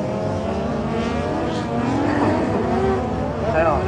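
An autocross race car running flat out on a dirt track at Mauron, the engine roaring continuously at high revs in the middle distance and rising slightly as it goes by.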